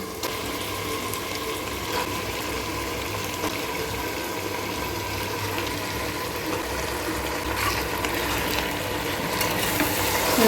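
Chicken pieces fry in a pot for a one-pot Bengali chicken curry, giving a steady crackling sizzle with scraping stir clicks that swells slightly toward the end, no voices.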